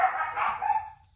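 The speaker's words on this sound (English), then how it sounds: "my dog is going nuts now" A pet dog barks excitedly indoors, a couple of close, sharp yelping barks that trail off into quiet.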